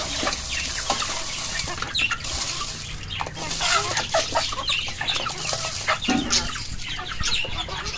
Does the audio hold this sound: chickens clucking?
yes